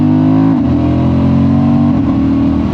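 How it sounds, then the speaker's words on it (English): A Honda Transalp motorcycle engine runs loud and close under acceleration, its steady drone dropping briefly in pitch twice as the factory quick shifter clicks through upshifts, with no talking. "The upshifts seem like they have a little delay to them, so let's do an upshift."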